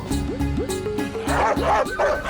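Several dogs bark repeatedly and loudly nearby, overlapping one another in quick, agitated bursts.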